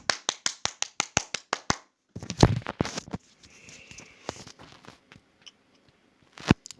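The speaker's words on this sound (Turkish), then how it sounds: "Kendimi alkışlayacağım." A man claps for himself during a mobile Zooba game session, a quick run of about eight sharp, close claps followed by louder thumps and shuffling, then a single loud clap at the end.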